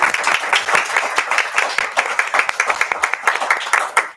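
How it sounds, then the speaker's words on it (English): An audience at a school board meeting claps enthusiastically, a dense burst of many hands applauding steadily throughout before cutting off abruptly. "Yeah, you can clap."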